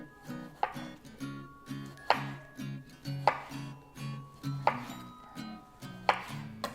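A knife cuts cherry tomatoes in half on a board, giving a regular series of close, sharp knocks about once a second with soft slicing between them.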